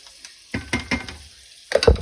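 Leafy Swiss chard greens drop into a hot pan and begin sautéing, giving brief bursts of sizzle and scraping stirs separated by near-silent gaps, ending with a louder clattering toss.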